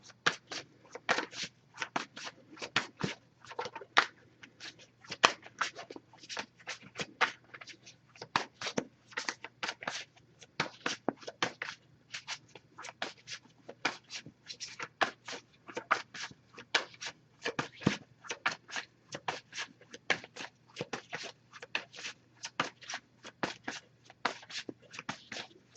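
Tarot cards are shuffled continuously in quick, crisp riffling bursts, close and fairly quiet, with no talking.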